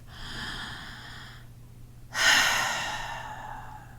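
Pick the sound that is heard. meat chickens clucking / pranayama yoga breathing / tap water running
pranayama yoga breathing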